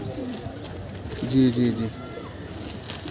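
A Kolkata-eyes pigeon gives one short low coo close by, while a person speaks briefly in the background.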